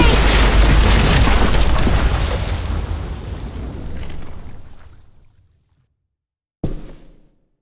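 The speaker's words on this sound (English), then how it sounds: "Shit, the bomb!" Bomb explosion in a dramatic scene, a huge rumbling blast that roars and slowly fades over several seconds into silence, followed by a short sharp burst of noise.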